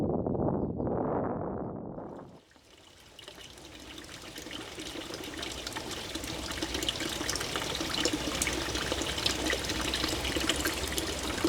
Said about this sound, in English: I often refill my water from these spring water sources